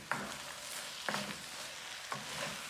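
Vegan hominy hash sizzling softly in a pan, with three brief scraping stirs of a utensil spaced about a second apart over the quiet, steady frying.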